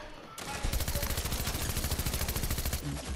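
Rapid gunfire in a small-town gun-game match, a fast stream of sharp blasts packed densely for nearly three seconds, loud and close, then cutting off abruptly.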